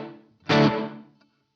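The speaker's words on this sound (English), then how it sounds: "So let me just bypass the delay, and we can hear the reverb." A single distorted electric guitar chord played through a BOSS GT1000CORE with the delay bypassed swells loud, then decays with a short reverb tail into silence.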